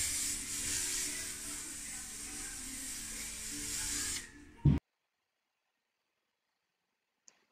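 Spray adhesive is applied to wood and soft foam for an upholstered headboard: a steady close hiss for about four seconds ends in a brief clunk, followed by silence.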